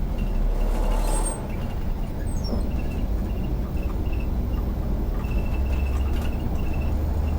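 A bus engine runs steadily and close while riding the line from Les Portes en Ré toward Loix on Île de Ré, with a brief hiss of released air brake early on and faint high beeps over the continuous drone.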